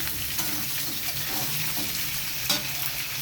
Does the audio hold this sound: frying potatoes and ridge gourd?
yes